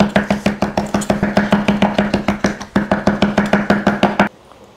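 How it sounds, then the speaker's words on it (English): A knife mincing shallots and garlic on a board makes a fast, even run of close, crisp chops, roughly five strokes a second, before stopping abruptly near the end. "and then we're gonna mince it up"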